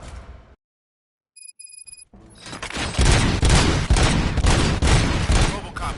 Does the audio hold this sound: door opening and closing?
no